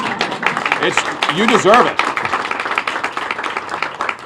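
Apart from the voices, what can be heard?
audience clapping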